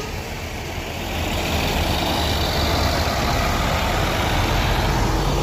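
The Borlindo Avante bus pulls away from a bus terminal, its heavy diesel engine droning loud and close as the rumble swells and then holds steady.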